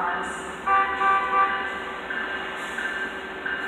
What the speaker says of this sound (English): There's another train behind this one too